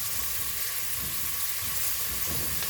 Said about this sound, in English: So I'll do my onion until brown.